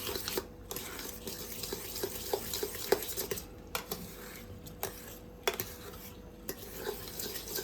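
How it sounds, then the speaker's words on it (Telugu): Egg biryani rice being mixed by hand in a pot, giving soft repeated stirring and scraping sounds with occasional light clinks of the vessel, close and steady, with no talking. "ఇది కలపడమే ఇంపార్టెంట్ బాగా అంటే అంత బాగా కలిసిపోయేలాగా కలుపుకోవాలి"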